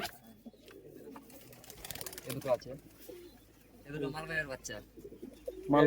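Madrasi pigeons cooing in a loft, soft low coos recurring under a voice talking throughout, with a louder burst near the end.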